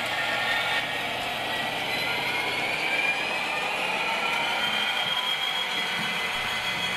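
Class 66 diesel locomotive 66040 hauling a train of ballast hopper wagons, a steady broad rumble with rail squeal holding at a constant level throughout, no talk.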